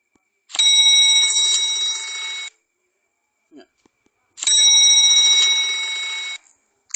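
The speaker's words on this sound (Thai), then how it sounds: "Mechanical ships bell clock" Two bright, ringing mechanical bell chimes, each sustained for about two seconds with a buzzy metallic tone, separated by a short silence.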